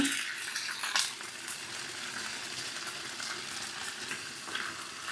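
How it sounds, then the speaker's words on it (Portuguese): Steady crackling sizzle of an egg frying in a pan over medium-low heat, continuous and close, with a few brief louder pops and no voices. "Deixar fritando em fogo médio para baixo durante 1 minuto."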